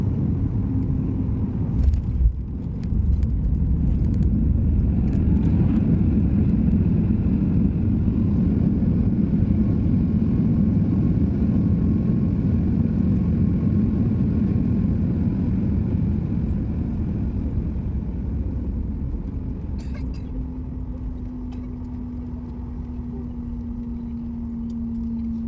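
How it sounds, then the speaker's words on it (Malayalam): An airplane lands at Trivandrum airport, heard from inside the cabin as a loud, steady engine roar and rumble. A brief clatter comes near the start, and the roar eases slightly toward the end with a rising whine. "അപ്പോൾ ട്രിവാൻഡ്രം എയർപോർട്ടിലോട്ട് ലാൻഡ് ചെയ്യുന്നതാണ് കാണുന്നത്"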